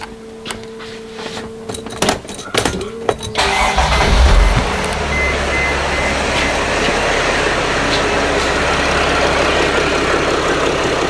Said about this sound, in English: Let me go in the vehicle and start the engine.